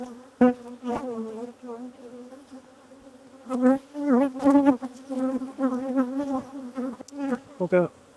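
Honeybees buzz loudly around opened, defensive hives during requeening, a close, wavering drone with individual bees swooping near and pitching up and down, steady throughout with no talk.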